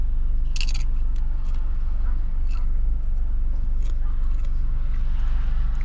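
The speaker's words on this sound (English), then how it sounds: "I am eating some chips and dip." Crunchy chips with dip are eaten inside a car, giving sporadic crisp bites and crunches close to the ear over a constant low engine rumble.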